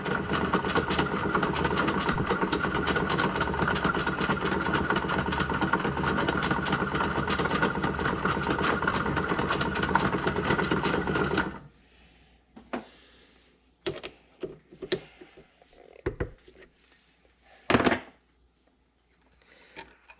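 A bench lathe turning lawn mower parts runs with a steady mechanical hum and whir for about eleven seconds, then stops, leaving scattered clicks and knocks of handling at close range.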